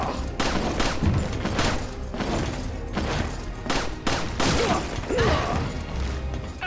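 Pistol gunfire in a video game, a rapid run of sharp shots and impacts with mechanical clicks and crashes, loud and dense across the clip with no talking.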